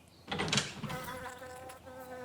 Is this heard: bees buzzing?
yes